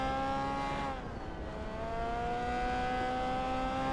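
Open-wheel race car in the Grid Autosport video game, a steady engine drone with a rising whistling turbo tone, continuous and fairly loud with no talking.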